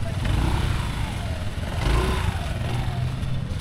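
A motorcycle engine runs steadily up close while the rider parks outside an Alphamart store, a continuous low rumble with a slight swell midway.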